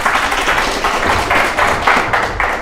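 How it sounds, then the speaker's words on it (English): Audience applause greeting a guest speaker at a robotics talk, steady dense clapping sustained at full loudness through the whole stretch with no voices over it. "Please give everyone a applause"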